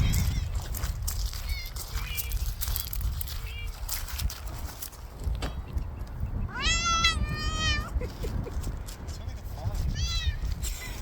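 Several short rising meows from a cat at an RV campsite in Raton, a quick cluster midway and another near the end, over background rumble and some talking.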